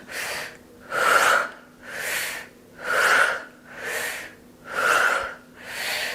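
During a beginner yoga workout with weights, a person takes deep breaths through the mouth, six slow, rhythmic, breathy inhales and exhales close to the mic with no talking.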